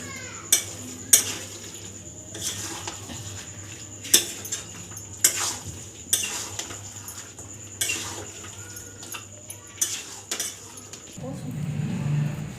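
Cabbage and fish head curry with coriander leaves being stirred in a pan, a series of sharp scraping and clattering strokes over a soft background sizzle, ending in a louder rush of frying.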